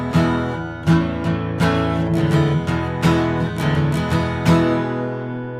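An acoustic guitar strung with a Tonebar string mount instead of bridge pins rings out loudly in a series of strummed chords, each attack sustaining long and blending into the next, with no talking.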